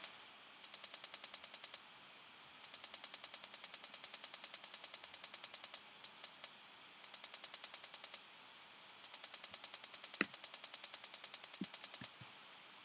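Soloed hi-hat in a future bass production, EQ'd and sidechained to kick and snare, playing rapid bright ticking patterns in bursts that pump and duck, with short gaps and a few isolated hits, alone with no voices.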